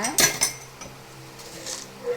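Glasses and plates clink and clatter during dishwashing, a few sharp knocks near the start followed by quieter rattling and running-water wash, with a faint voice underneath.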